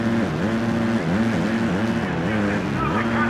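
Motocross bike engine in the Monster Energy Supercross 2 game, a steady buzzing whine that rises and dips in repeated revving waves through the whole stretch.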